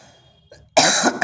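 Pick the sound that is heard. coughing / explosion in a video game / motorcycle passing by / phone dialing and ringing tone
coughing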